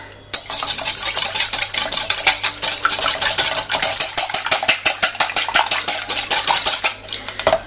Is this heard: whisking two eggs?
yes